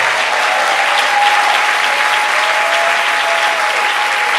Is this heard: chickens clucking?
no